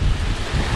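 Strong wind buffeting a microphone at Nai Harn Beach in Phuket, a loud, continuous low rumble and roar with surf-like hiss, no voices.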